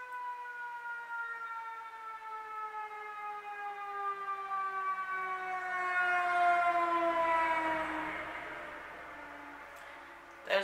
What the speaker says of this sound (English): so I get a lot of sirens on my street